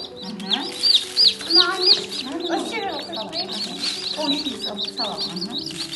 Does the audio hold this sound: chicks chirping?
yes